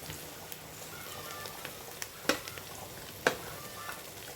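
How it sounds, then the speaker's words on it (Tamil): Onion and green chillies sauté quietly in a pan, a soft steady sizzle with scattered light taps and two sharper clinks of a spoon against the pan. "பச்சை மிளகாயும் சேர்த்து நல்லா வதக்கிக்கிறோம்"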